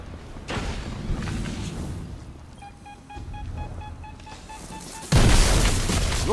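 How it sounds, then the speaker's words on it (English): Charges detonate in the game Destiny 2 with a deep boom near the start. A second heavy blast hits around the five-second mark and leaves a loud rumbling wash, with a mechanical tone pulsing in between. "Detonate those charges."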